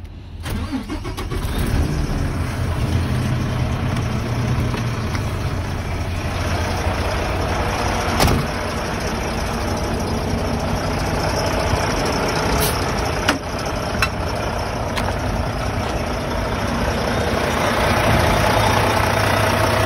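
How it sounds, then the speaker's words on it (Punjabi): A truck engine idles with its hood open during an exhaust system check, a loud, steady mechanical rumble that runs unbroken from start to finish with occasional faint clicks. "ਇਹਦੇ ਵਿੱਚ ਟਰੱਕ ਸਟਾਰਟ ਕਰ ਲੈਣਾ"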